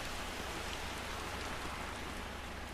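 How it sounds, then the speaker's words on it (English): Steady rain pours down without a break in Far Cry 2, a dense, even hiss of drops spread across the whole clip with no voices. "back in Africa, it's raining"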